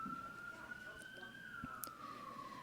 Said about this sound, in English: Got the sirens rolling